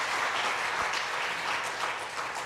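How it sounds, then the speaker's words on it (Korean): A church congregation claps loudly and continuously during a Sunday sermon, producing a dense, even wash of applause that fills the sanctuary. "여러분 제게 용기를 주시기 위해서 박수 한번 더 쳐주시면 힘이 날 것 같습니다."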